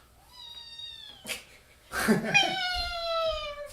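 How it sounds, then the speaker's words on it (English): A cat meows repeatedly up close in a quiet home, giving several drawn-out, wavering calls with short breathy sounds between them. "She's a cat."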